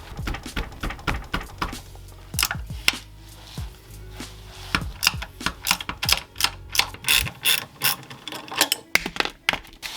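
A ratchet undoes 14mm bolts on the traction bar front mount of a Honda CRX, a rapid series of sharp metallic clicks in bursts with short pauses, close and clear.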